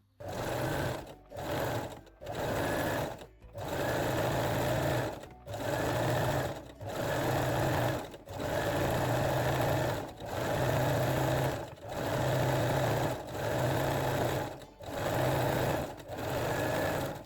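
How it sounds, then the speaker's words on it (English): A sewing machine stitches fold-over elastic along the waistline of jersey and lace panties, running loud and close in repeated bursts of steady motor whir separated by short pauses. "Fold the fold over elastic and stitch the waistline again."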